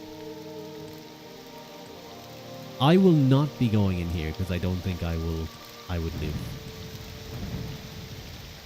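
Steady rain hisses throughout a Morrowind game scene, with someone talking loudly over it for several seconds before the downpour carries on alone.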